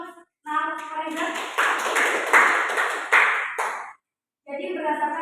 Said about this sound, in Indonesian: Silakan tepuk tangan untuk Reza